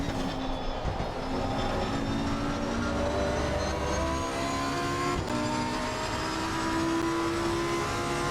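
Lamborghini Evo race car engine at the Monza circuit in the racing game Assetto Corsa Competizione, a steady sustained engine drone with shifting tones, continuous and fairly loud throughout with no talking.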